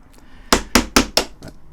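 A hammer and tack puller strike and pry upholstery tacks out of a stool, giving four sharp, close metallic-wooden knocks in quick, even succession and a fainter fifth tap.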